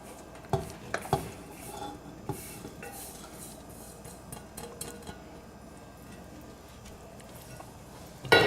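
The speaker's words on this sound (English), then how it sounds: "And you wanna just stir it up until it starts to thicken." A utensil scrapes and clinks faintly against a pot while brown sugar is stirred, soft irregular taps early on, then quieter continuous stirring, with a louder knock at the very end.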